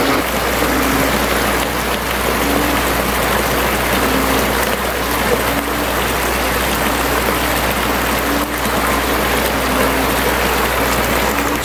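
Heavy rain pours steadily on a street in front of a store, with floodwater rising toward overflowing, a dense unbroken wash of water noise throughout, no voices.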